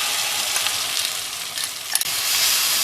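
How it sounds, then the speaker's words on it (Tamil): Ground rice batter for uppu urundai being stirred in a pan, a steady bright sizzle and hiss with faint scraping and small knocks, close and continuous, no talking. "இதை நல்லா கிளறிட்டே இருக்கணுங்க."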